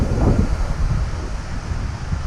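Strong wind buffets the microphone at a crane job site, a loud, continuous rumbling roar with gusty low-end surges and no talk.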